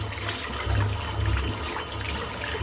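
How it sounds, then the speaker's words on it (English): A shaving brush is rinsed under running water, giving a steady close splashing rush with no pauses. "I'll just rinse the brush out"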